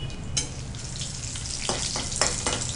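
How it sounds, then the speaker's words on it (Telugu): Cumin, mustard seeds and dried red chilies sizzle in hot oil, a loud, steady frying hiss broken by sharp pops and stirring, with no talking. "So oil heat అయినట్లుంది. ఏం వేయాలి? ముందర జీలకర్ర వేసుకోవాలి, ఓకే, తర్వాత ఆవాలు వేసుకోవాలి, ఎండుమిరపకాయలు వేసుకోవాలి."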